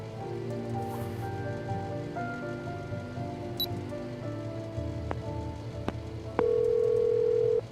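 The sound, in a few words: phone ringing unanswered in Memento Mori video game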